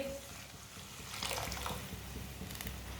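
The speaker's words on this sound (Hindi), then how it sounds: "थोड़ा सा पानी डाल लेंगे।" Water pours into a pan of cooking chickpea masala, a soft steady splashing and sizzle that swells briefly and then continues faintly, close by with no talk over it.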